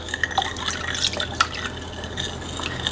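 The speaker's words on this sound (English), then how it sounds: "I'm going to add the rum to it" Rum poured into sweetened espresso coffee, heard as light close trickling and dripping with a few bright clinks of glass, quiet and with no talking.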